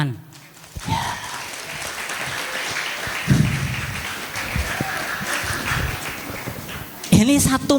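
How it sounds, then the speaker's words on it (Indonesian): An audience at a school Maulid Nabi commemoration claps in a broad, moderately loud wash, with a few sharper bursts standing out and voices heard at the start and end. "Tepuk tangan, tepuk tangan."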